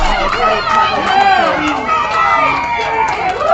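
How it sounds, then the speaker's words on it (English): A netball crowd at the Karly Forsyth Memorial Cup match, Ngatea Ngakau vs Te Aroha Tui, cheering loudly and steadily for a defensive play, with a commentator talking over the noise. "the crowd are happy with the defence"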